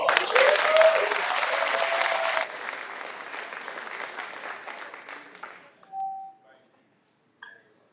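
Applause from a live auction crowd, loud clapping for several seconds that thins out and fades, followed by a brief pause and small clinks.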